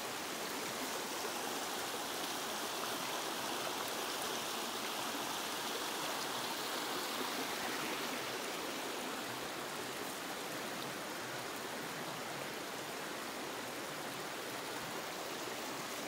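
A clear, cold mountain creek near Blanchard Springs in Mountain View, Arkansas, rushes over rocks with a steady, close, full hiss of flowing water and no voices.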